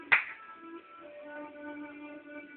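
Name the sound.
hands clapping to trigger a sound-activated switch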